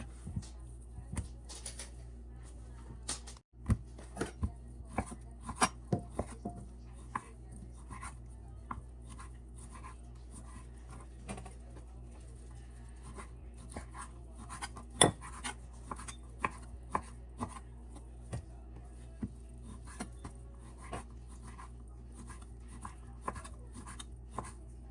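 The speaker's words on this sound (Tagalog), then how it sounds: "Ayan, hihiwain natin siya ng maliliit." A knife chops skinless pork belly into small pieces on a cutting board. The close, sharp taps come at an irregular pace over a quiet background, with faint voices now and then.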